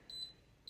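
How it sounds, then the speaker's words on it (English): Instant Pot Pro Plus 6-quart pressure cooker giving two short, faint electronic beeps, with a gap of quiet between them. "The beeps aren't too terribly annoying."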